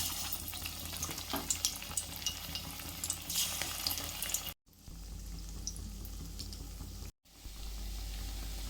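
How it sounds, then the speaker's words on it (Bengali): Fritters (bora) deep-fry in hot oil with a continuous crackling sizzle, close and fairly quiet, broken by two brief cuts to silence. "এবারে এগুলো বড়ার আকারে ভেজে নেব।"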